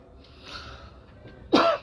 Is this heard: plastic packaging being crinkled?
no